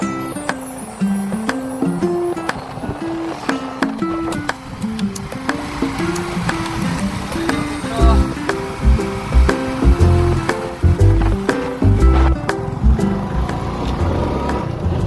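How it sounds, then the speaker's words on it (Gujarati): Vehicle driving along a rough, badly broken road on the way to a dam, with a steady engine drone, rattling and repeated jolting thumps from the bumps, close and loud throughout. "તો ભાઈ ગાડી આકે છે."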